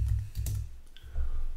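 Computer keys click in short irregular bursts as a task heading is typed into a document, close and dry with brief pauses between keystrokes and no talking.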